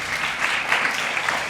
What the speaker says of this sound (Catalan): Per favor, un aplaudiment també per a ell